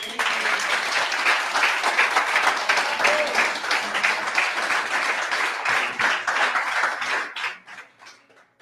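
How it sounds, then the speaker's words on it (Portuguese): A church congregation applauds loudly at a sermon by Apostle Miguel Thomaz, a dense wash of clapping that holds steady before thinning and fading out over the last second or so. "Aplauda Jesus"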